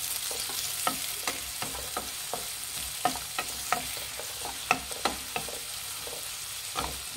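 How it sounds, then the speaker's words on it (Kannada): Sliced onions fry in hot oil with a steady broadband sizzle, punctuated by a dozen or so sharp spoon-against-pan clicks as they are stirred at an irregular pace. "ಈರುಳ್ಳಿ ಫ್ರೈ ಮಾಡಿ."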